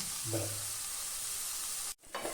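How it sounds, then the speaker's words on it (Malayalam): Onions sautéing with salt in a pan for chicken masala, a steady soft sizzle running throughout with a brief stir or clatter near the start and a short drop-out near the end. "ഉപ്പിട്ടിൽ ഈ സവോള ഒന്ന് വഴറ്റുക"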